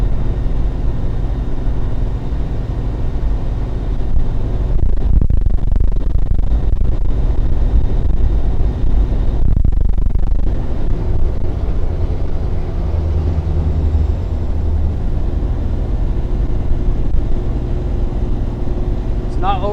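A 2020 Freightliner Starcraft Allstar XL 36-passenger shuttle bus engine drones steadily while climbing a hill at about 60 mph on half throttle, a loud low rumble with wind noise and brief dips heard from inside.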